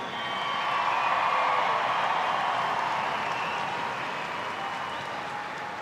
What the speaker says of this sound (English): Another round of applause for the Sky Blues.